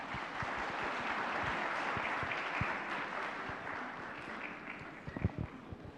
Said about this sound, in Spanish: Vamos a una vez más aplaudir por este congreso y también al expositor